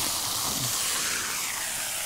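Shrimp hits a hot saute pan and sizzles with a steady, broad hiss that holds evenly and fairly loud throughout, with no voices over it.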